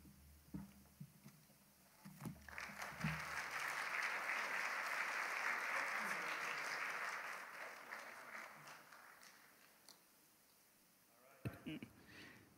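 Audience clapping for the two debaters after a Quran versus Bible debate, swelling from scattered claps into a full round of applause that holds for several seconds and then fades, with a few stray claps afterward.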